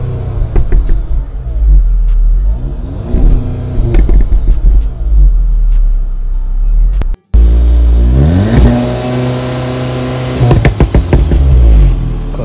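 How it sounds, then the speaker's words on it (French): A 310 hp Audi S3 engine revving loudly up close, deep rumbling throttle blips rising and falling repeatedly, with a short silent break midway before another strong climbing rev. "ce que tu veux entendre, c'est le bruit de cette Audi S3."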